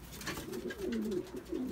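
A male pigeon in a loft coos in a soft, rolling series of low calls, close and steady, with no talking over it.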